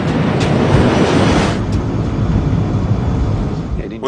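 A Douglas DC-8 jet airliner accelerating toward takeoff speed produces a loud, broad roar that eases slightly partway through and continues as a steady rushing drone.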